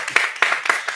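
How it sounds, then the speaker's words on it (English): A few people clap for a first-year student at a university convocation, several uneven claps close together over about a second, light and sparse rather than a full ovation. "You want to clap for Glenn?"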